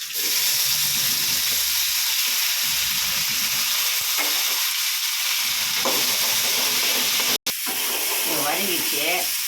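Tomatoes and curry leaves hit hot oil in a frying pan with lentils and onion, and a loud, steady sizzle and hiss runs throughout. A brief break interrupts it, and faint speech sits under the frying.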